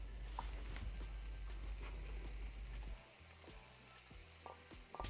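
Chicken pieces for cashew chicken frying in a small skillet, a steady close sizzle with scraping stir strokes and light utensil clicks, the hiss easing partway through.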